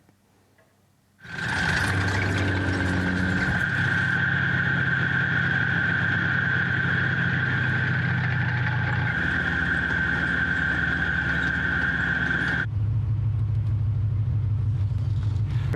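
A Spartan armored military vehicle, modernized by a mechanized brigade, starts up after a moment of quiet and then runs as a loud, steady engine drone with a high whine, holding close and constant.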